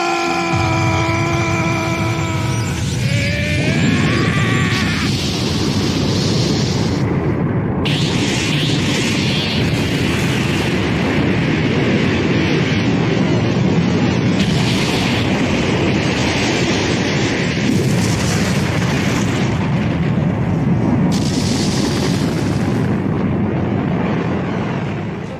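A massive anime energy explosion from Dragon Ball Z, a sustained loud roaring blast with rumbling and whooshing bursts that fill the whole stretch without letup, opening with a rising tonal sweep.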